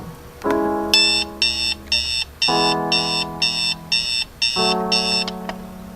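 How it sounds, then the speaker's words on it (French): An electronic alarm clock beeps in rapid bursts, repeating steadily and loudly, layered over a sustained tonal ring. "l'alarme de Thomas Lambert sonne."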